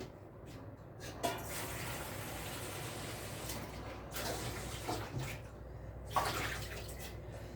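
Hands being washed under a running kitchen tap, a steady close splash of water broken by a few louder bursts as the hands move through the stream.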